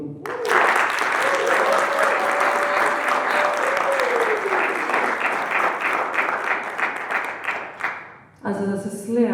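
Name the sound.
applause from the poetry slam audience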